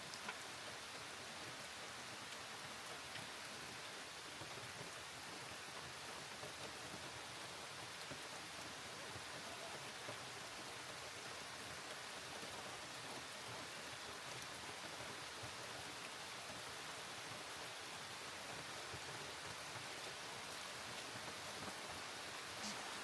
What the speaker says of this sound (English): it means it's raining a lot.